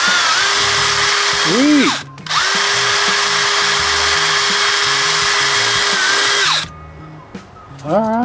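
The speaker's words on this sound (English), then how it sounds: "let's burr this plastic handle" A power drill with a burr bit deburring a plastic handle from a 1974 25 hp Johnson outboard starter motor, loud and steady for about six seconds with a brief pause, then a short final burst; a voice speaks briefly.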